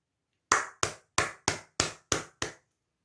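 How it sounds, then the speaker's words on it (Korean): Seven sharp hand claps in an even, slightly quickening rhythm, close and crisp against silence, each ringing off briefly before the next. "솔직히 박수 한번 치고 가도록 하겠습니다"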